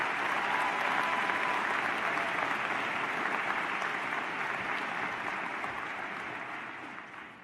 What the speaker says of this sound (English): Can we get another round of applause for our class president